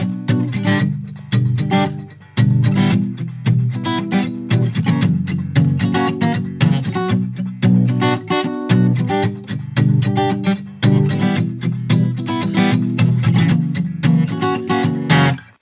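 An acoustic guitar strums steady, dampened chords in a driving rhythm, the muted strings giving a tight, percussive chug throughout.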